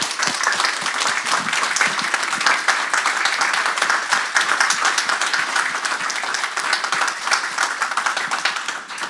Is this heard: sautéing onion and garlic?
no